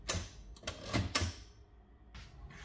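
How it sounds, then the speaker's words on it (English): A 1958 Everest K2 portable typewriter's tabulator is worked, giving a quick cluster of sharp mechanical clacks and a carriage thunk, then a softer rattle, close and alone in a quiet room. "Here you use the tabulator."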